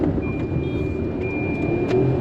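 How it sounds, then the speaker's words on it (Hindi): Road and engine noise rise from a 2026 Tata Punch facelift with a turbo engine as it pulls in second gear, a steady close hum with a faint high whine and some light clicks in the cabin. "अब देखो सेकंड गियर में भी ये गाड़ी आराम से उड़ जाती है।"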